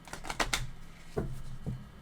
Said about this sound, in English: I'm going to be shuffling, but off screen.